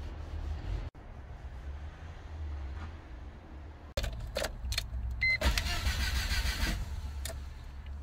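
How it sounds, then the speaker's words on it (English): The key turns on a Rover 25 with a failing starter motor, giving a few sharp clicks and then a close, dull mechanical whir with no engine catching, over a low background rumble. "it looks like my starter motor has decided to give up"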